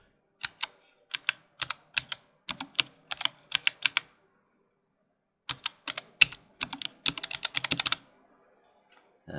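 Someone types on a computer keyboard, a close, crisp series of key clicks in quick bursts with a few seconds' pause midway, then a faster run ending in a final keystroke, with no talking.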